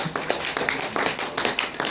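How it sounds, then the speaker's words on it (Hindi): An audience at a community celebration in Shimla keeps clapping while a leader comes on stage, a brisk uneven patter of many hands, fairly close and continuous with no voices. "जब तक लीडर स्टेज पर आएंगे आपकी तालियां बजती रहनी चाहिए"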